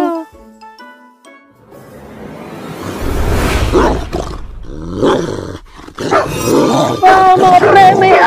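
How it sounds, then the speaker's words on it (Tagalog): A cartoon dog in an animation growls and barks loudly over a rising rumble, with excited voices mixed in. "Mga pre, may aso!"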